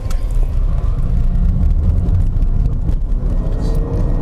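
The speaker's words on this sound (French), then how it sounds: "Donc maintenant l'accélération de 0 à 100 km/h en Zoé 50." Renault Zoe 50 electric car accelerating hard from 0 to 100 km/h, a steady loud cabin rumble of road and wind noise with a faint rising whine, no talking.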